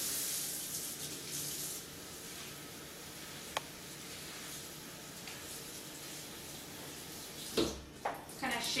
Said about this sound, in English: So I'm just going to rinse the spinach leaves